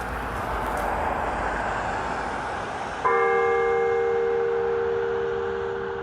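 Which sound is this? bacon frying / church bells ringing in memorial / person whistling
church bells ringing in memorial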